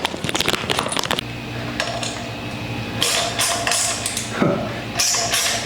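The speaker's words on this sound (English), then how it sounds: "mount this handle right there using an M535 bolt with the nut" Metal hardware clanks and rattles as an M535 bolt and nut fasten a handle onto a fishing cart, with a dense burst of clinks early on and scattered scrapes and knocks after, close and moderately loud.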